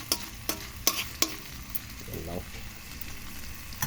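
Shrimp sizzle in butter in a pan, a steady frying hiss punctuated by several sharp clinks of stirring, close by, with a voice briefly speaking underneath.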